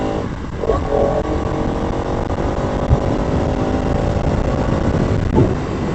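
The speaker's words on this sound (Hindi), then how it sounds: "चलिए बाइक को थोड़ा खींचते हैं।" A motorcycle engine runs steadily and loud while being ridden outdoors, with a couple of brief throttle surges rising above the continuous drone.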